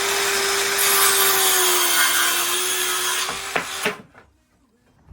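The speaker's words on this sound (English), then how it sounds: "we have a lovely bit of oak for the window trims, so we're just cutting it to size" A saw cuts steadily through a piece of oak being trimmed to size for window trims on a narrowboat fit-out, close and loud for about four seconds, then the cut finishes with a couple of knocks and falls quiet.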